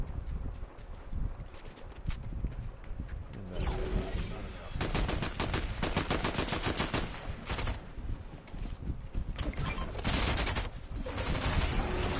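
Turret gunfire in Fortnite as dense rapid bursts of shots, loud and continuous with short gaps, mixed with mechanical in-game clatter.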